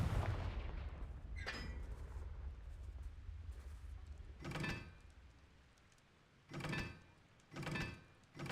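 Confringo blasting spell explosions in the Hogwarts Legacy video game, several loud booming bursts at intervals over a low rumbling background, each with a sharp crack and short decay.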